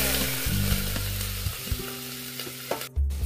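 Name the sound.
cumin, mustard seeds and chillies frying in oil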